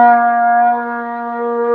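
A trumpet sustains a short, steady note with air leaking through the nose as well as the mouth, giving a thinner, slightly honky tone that dips in loudness partway through.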